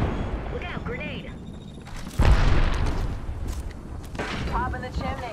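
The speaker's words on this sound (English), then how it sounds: "Look out, grenade." Grenade exploding during an Apex Legends match, a single sudden loud boom partway through that leaves a rumbling tail, surrounded by game voice lines and other in-game noise.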